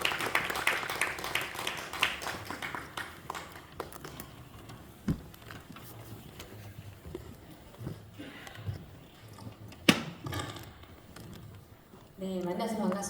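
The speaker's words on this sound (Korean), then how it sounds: "박수로 환영하겠습니다" An audience at a Christian workplace missions conference applauds to welcome a missionary speaker, a brisk patter of clapping that thins out over time before a voice comes in at the end.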